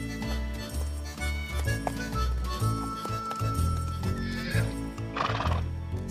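Cartoon horse trotting with a steady clip-clop of hooves over a busy music score, with a whinny rising near the end.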